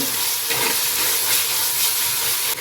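Ginger, garlic and green chillies fry in a hot pan for a Mangalore clam curry, giving a close, steady, loud hissing sizzle throughout.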